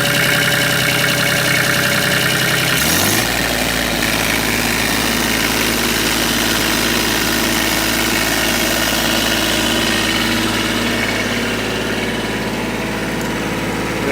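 A tractor engine idles while warming up toward operating temperature, with a steady, loud rumble close by and a slight shift in pitch early on as it settles into an even idle. Nobody speaks.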